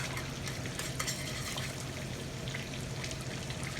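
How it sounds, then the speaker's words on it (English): Butter and crushed garlic cooking in a pan, a soft continuous sizzle and faint crackle heard close but at low level, with no talking. "Start letting that butter cook in there."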